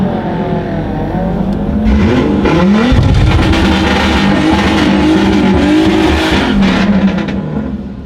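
A car does a burnout at a Wednesday drag racing event, with a turbocharged BMW E34 and a Crown Victoria nearby. Loud, sustained engine roar and tire squeal run throughout, building and holding steady close to the microphone.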